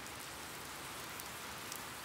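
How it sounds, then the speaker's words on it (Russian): Light rain falling in a cartoon scene, a dense even patter of drops on a surface, steady and close throughout with no voices. "Кажется, сейчас будет небольшой дождик."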